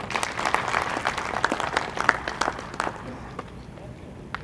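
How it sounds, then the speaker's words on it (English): An audience at an opening ceremony claps in a special round of applause for a guest, sharp individual claps rising, then thinning and fading out. "Please, a special round of applause for him."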